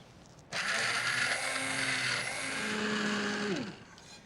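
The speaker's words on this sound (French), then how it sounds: "Maintenant, je vais mixer tout ça." A kitchen blender purees a carrot, orange and haddock soup with ginger, starting abruptly and whirring loudly and steadily for about three seconds, its motor pitch shifting slightly before it winds down and stops.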